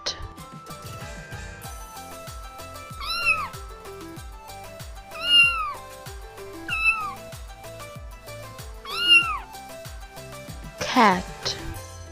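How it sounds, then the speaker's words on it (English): A domestic cat meows five times at spaced intervals, clear mid-pitched calls over a continuous bouncy music track. "cat,"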